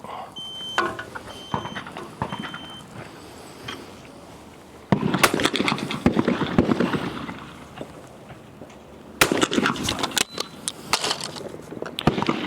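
A Beretta 688 shotgun fires at clay targets on an outdoor shooting stand, with two sharp, loud reports a few seconds apart, each followed by ringing outdoor noise.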